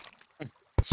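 Wet squelching attack noise from a summoned familiar in modded Terraria, heard as two short, loud bursts close together after a brief murmur of talk earlier.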